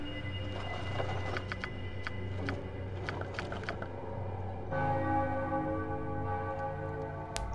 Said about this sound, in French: vous faites sonner la cloche une troisième fois